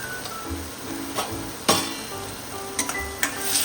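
Spices for egg curry (chili powder, coriander, turmeric, garam masala) being sautéed in a pan: soft frying sizzle with scattered spoon scrapes and knocks against the pan, close and fairly quiet, no talk.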